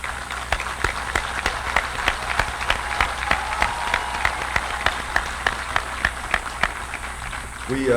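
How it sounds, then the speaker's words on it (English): A crowd applauds steadily, with many hands clapping in a dense, continuous wash that holds at an even level throughout. "I think all of us here owe them a round of applause."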